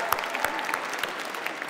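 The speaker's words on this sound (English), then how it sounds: "we'll have an applause for that" An audience at a film awards ceremony applauds, a brief, fairly distant patter of many hands clapping continuously with a few sharper claps standing out.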